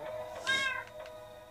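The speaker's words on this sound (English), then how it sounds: "and all my cats are in here." Several house cats meow indoors, one clear, fairly close meow rising above quieter, fainter mews before and after it, with no talking.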